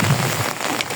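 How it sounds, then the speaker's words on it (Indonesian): Rain falls steadily in hot weather in a remote village deep in the forest, a dense, loud, continuous hiss of drops on surfaces with no speech. "Kondisi panas tapi hujan."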